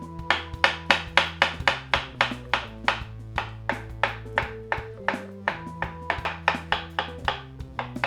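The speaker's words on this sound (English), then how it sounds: "You wanna cut as thin of slices as you can." A knife chops rapidly and steadily through papaya into thin slices on a cutting board, producing about thirty crisp, close, evenly spaced knocks with a low musical hum running underneath.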